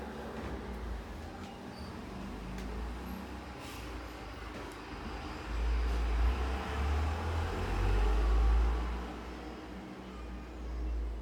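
A 2004 KDK B56X5 industrial ceiling fan with a round globe light runs at speed 3, giving a steady low rumbling whoosh that swells slightly in the middle, with faint ticks over it.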